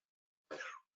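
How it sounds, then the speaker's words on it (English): A single short, dry cough from someone in an air-conditioned room, close and brief against silence. "I apologize for my coughing."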